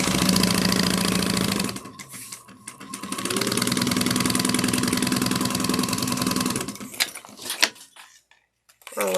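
A sewing machine top stitching a bag runs in a steady mechanical whir, pauses briefly, then resumes for a long run before stopping with a few clicks and handling knocks near the end.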